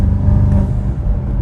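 Low, rumbling exhaust overrun from a BMW M5 G90 with catless downpipes and a double X-pipe, a steady close burble over a second and a half with no talking.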